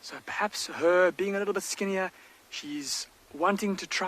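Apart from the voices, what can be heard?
None of the usual background noises is heard.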